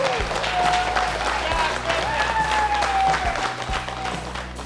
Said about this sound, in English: Kyle right here, let's give him a round of applause.